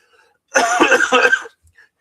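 A single close, rough cough burst, a short throaty hack lasting about a second, with silence before and after.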